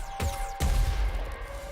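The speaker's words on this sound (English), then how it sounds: "That means we have double explosions." Two quick explosion blasts in the video game Robobeat, each a sharp impact with a rumbling low tail, close and punchy over a steady game soundtrack.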